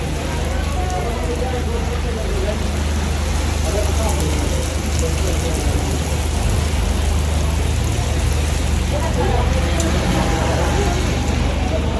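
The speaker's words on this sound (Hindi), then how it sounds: "संगत बारिश आ गई।" Steady, dense rain pours down continuously at a hilltop restaurant in the Margalla Hills, Islamabad, a constant broadband hiss with a low rumble underneath and faint voices in the background.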